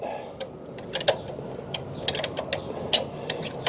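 A self-locking nut tightening on a Triumph Thruxton RS pannier mount gives a series of quiet, irregular ratcheting clicks and metallic ticks over a steady background hiss, close and fairly faint, with no talking.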